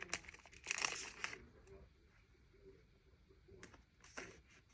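A tiny paper sticker is handled while filling gaps in a creative journal, giving soft crinkling rustles that come in a quick burst and then a few fainter touches, close and quiet.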